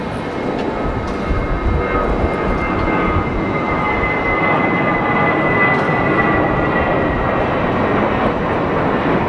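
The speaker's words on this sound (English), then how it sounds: "That's Delta Airlines, it's their A330-200, and that is off to Detroit." Delta Air Lines Airbus A330-200 departing London Heathrow for Detroit, a steady, loud jet rumble holding constant with no voices.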